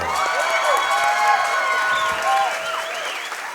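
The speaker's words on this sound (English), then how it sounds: "let's give both fighters a big round of applause" Applause from a crowd at a combat sports fight night after a three-round bout, steady and full throughout with cheering and shouts mixed in.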